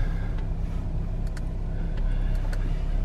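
A car engine idles steadily close by, a constant low drone with faint clicks and ticks on top.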